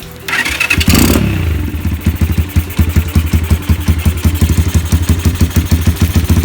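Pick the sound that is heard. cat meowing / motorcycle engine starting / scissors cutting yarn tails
motorcycle engine starting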